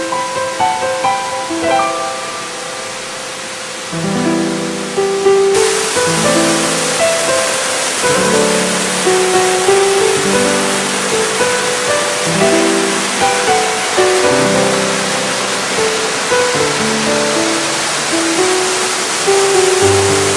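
Cascade Falls waterfall pouring steadily as a loud, continuous broadband rush of falling water, close by, with a lower churning layer beneath and no voices.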